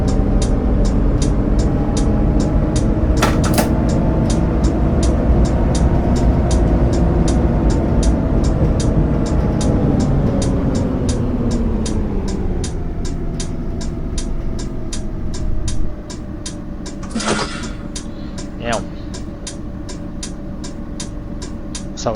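A bus driving on a circular map in the video game Lotus Simulator: a steady engine drone with a regular ticking like an indicator, the engine note dropping and winding down partway through, with no talk.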